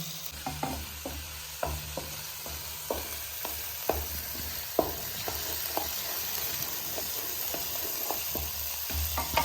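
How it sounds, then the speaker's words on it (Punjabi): Onions fry in hot oil over a high flame for a home-style Maggi noodle dish, a steady close sizzle broken by frequent light scraping clicks of a stirring spoon against the pan. "ਹੁਣ ਆਪਾਂ ਤੇਲ ਆਪਣਾ ਗਰਮ ਹੋ ਗਿਆ ਆਪਾਂ ਇਸ ਪਾਵਾਂਗੇ ਪਿਆਜ਼ ਇਹਨਾਂ ਪਿਆਜ਼ਾਂ ਨੂੰ ਥੋੜਾ ਥੋੜਾ ਬਰਾਊਨ ਕਰਾਂਗੇ"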